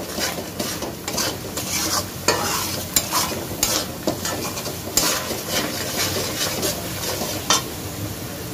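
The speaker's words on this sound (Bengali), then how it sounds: "এখন মশলাটা আমি ভালো করে একটু কষিয়ে নেব" Spice masala frying in oil for aloo dum, stirred steadily with a utensil scraping the pan, sizzle continuous and close, with frequent sharp scrapes and clinks.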